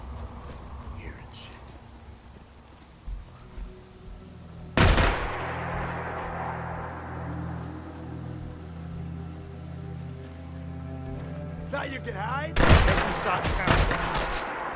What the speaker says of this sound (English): I think I like this gun now it's suppressed.